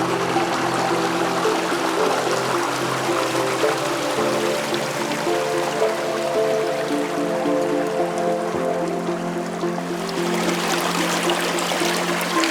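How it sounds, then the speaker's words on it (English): A waterfall on a steep hike at Mount St. Helens, heard as a loud, steady, broadband rushing roar that fills the whole stretch without pause. "I will go sit under that waterfall and be here when you guys get back."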